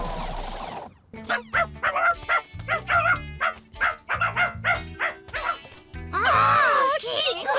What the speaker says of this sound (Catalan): quin gosset!